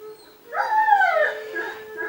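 A dog gives a single drawn-out whining howl that rises and then trails off, close and fairly loud.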